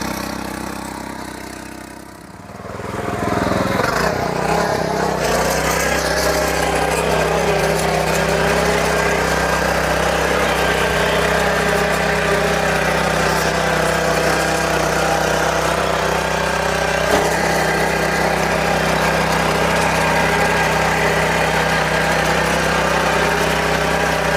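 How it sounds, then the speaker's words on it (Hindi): A Sraja R111 Deluxe power tiller fitted with its attachments starts up and runs steadily with a loud, continuous mid-pitched engine drone and mechanical vibration, holding an even level throughout with no talk. "तो अब इसके साथ में सभी अटैचमेंट लगाकर हम यहाँ पर चला कर दिखाएंगे आपके सामने।"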